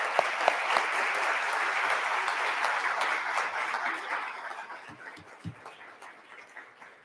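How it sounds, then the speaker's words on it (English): An audience applauds after a community forum panel on maternal health, dense close clapping that holds steady and then gradually thins and fades toward the end. "Big round of applause."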